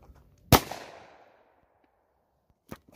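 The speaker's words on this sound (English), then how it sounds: "Okay, I'm just going to shoot one barrel." A single loud shotgun-style blast fired from one barrel at close range, a sharp crack with a ringing decay fading over a second, followed by a couple of faint clicks and a short knock.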